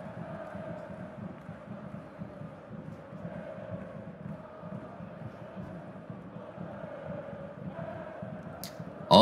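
A football stadium crowd at Real Madrid versus Atletico Madrid hums and chants steadily in a distant, rhythmic roar, with a brief sharp sound at the very end.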